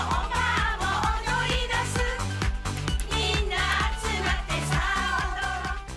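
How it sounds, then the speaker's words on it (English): A Japanese pop group made up of elderly women performing an upbeat song with steady beat and bass, continuous full-band music with no talk. "This is the sound of a Japanese pop group with a difference."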